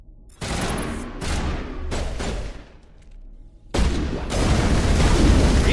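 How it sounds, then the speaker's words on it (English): Gunfire in Mass Effect, with loud repeated bursts of shots and booming impacts, a short quieter gap, then a sustained heavy volley. "Are you shooting me, sir?"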